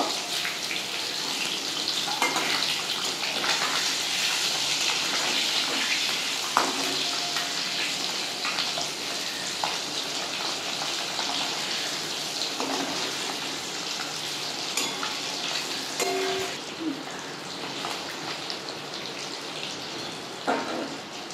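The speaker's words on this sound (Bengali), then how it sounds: "এবার আরেক দিকটা আমি হালকা করে ভেজে নেব।" Boiled eggs fry on their second side in hot oil, a continuous crackling sizzle that holds for about twenty seconds with occasional pops and clicks from handling, no talking.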